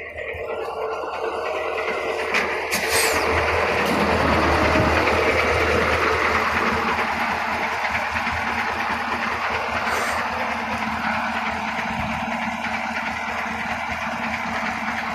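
A KAMAZ 6520-43 truck with a 400-horsepower engine runs steadily at a low, even rumble, heard up close for about fifteen seconds with no speech.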